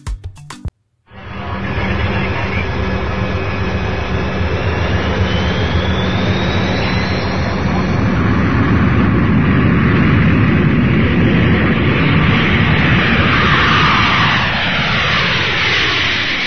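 A loud, sustained airplane engine roar begins abruptly after a brief silence, a steady jet drone with a slowly gliding whine that swells toward the end, heard alone.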